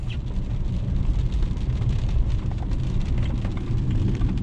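Heavy rain drums steadily on a 2008 BMW 328xi E90 during a storm while it is driven, a dense, loud, continuous patter over a low road rumble.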